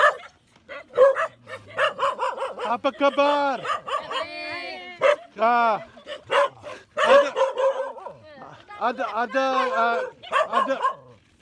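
Dogs in Bali bark, yip and whimper in repeated loud bursts close by, mixed with people talking throughout.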